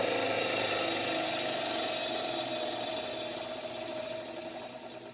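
A small pony motor serving as prime mover spins a rotor fitted with magnets, giving a steady mechanical whir with a fast clicking, ratchet-like rattle and a sustained tone that fades slightly toward the end.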